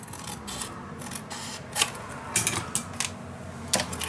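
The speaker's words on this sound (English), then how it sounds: "So I am just going to trust my scissors for that." Scissors snip through paper while a steampunk Christmas letter is cut out, a series of sharp, irregular crisp snips spaced over a few seconds, close and fairly clear, with no talking.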